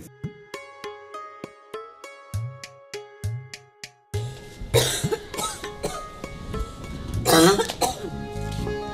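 A man coughs repeatedly in sharp, separate bursts, then breaks into a denser, rougher coughing fit with wheezy, throaty strain and throat clearing, close and fairly loud.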